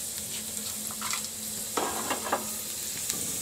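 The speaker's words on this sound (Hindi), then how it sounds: "लहसुन के हम ब्राउन होने का इंतज़ार करेंगे, उसके बाद इसमें बाकी चीज़ें भी डाल देंगे।" Garlic fries in hot oil for a dal tadka, giving a steady close hiss and sizzle with a few scraping stirs and small pops over it, and no talking.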